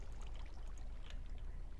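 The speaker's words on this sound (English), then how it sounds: "Okay, good, that fills with water perfectly." In Minecraft, water pumped by a powered pump fills a space with a faint, low, steady pouring rush. It is brief and quiet, with no talk.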